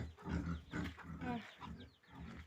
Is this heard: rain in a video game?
no